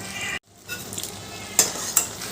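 Bottle gourd peel curry with lentil dumplings, chopped coriander and green chilies is stirred in a hot pan. A close, steady sizzle is broken by a brief gap, then two quick scrapes of the spoon.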